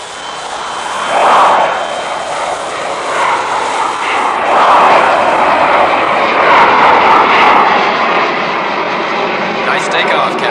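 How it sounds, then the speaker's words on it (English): A fighter plane takes off and flies in a radio-drama scene, its engine roar loud and sustained, swelling and steady throughout with voices speaking over it. "Within minutes, they are airborne."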